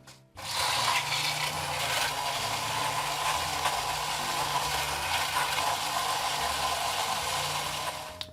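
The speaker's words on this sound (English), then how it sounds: "Now, I'm going to put this in the spindle blender here." A spindle blender whirs steadily as it mixes a honey-sweetened cocktail, starting abruptly after a brief quiet moment and holding an even, close motor drone before cutting off at the end.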